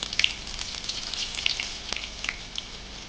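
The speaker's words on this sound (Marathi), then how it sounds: "आपण हे दुसऱ्या साईडने चांगलं त्याला तळून घेऊया" Palak bhaji, spinach fritters, frying in hot oil, turned over to crisp the second side, giving a steady soft crackle with scattered sharper pops and sizzles throughout, fairly faint and with no talking.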